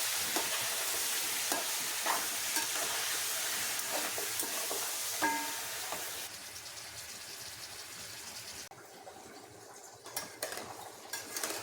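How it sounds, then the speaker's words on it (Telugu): Large chicken pieces sizzle in hot oil in a wide pan for fry piece biryani, a steady crackling fry broken by clinks of a spoon and stirring against the metal, quieter toward the end. "ఇప్పుడైతే నేను చికెన్ వేస్తున్నాను"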